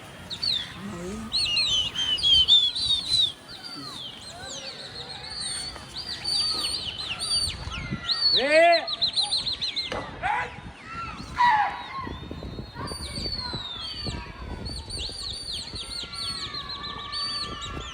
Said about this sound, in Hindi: ये भाई 15 से 20 दिन पुराने कबूतर लड़ रहे हैं।